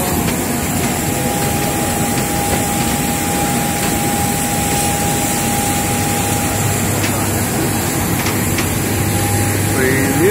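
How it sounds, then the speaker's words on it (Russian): A jet airliner's engines whine and roar close by on the hot tarmac after landing in Dubai, a loud steady drone with a thin high tone, while people talk over it. "Это наш летачок"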